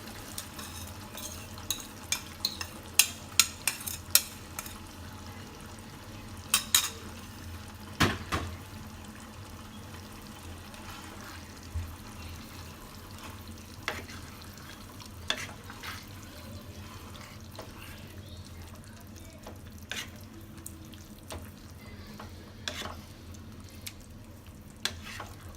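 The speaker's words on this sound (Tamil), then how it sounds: "நல்லா மசாலா எல்லா சைடும் போகிற மாதிரி பரட்டி விட்டுறோம்." Biryani masala being stirred and fried in a pot, with scattered scraping clinks of a spoon against metal over a low steady sizzle, close and fairly quiet.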